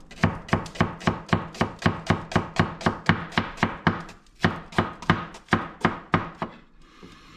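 A knife thinly slices shallots on a wooden cutting board for a raw sambal, making a fast, steady run of close, crisp chops that pause briefly midway and then resume before stopping.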